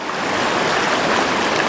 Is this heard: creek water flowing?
yes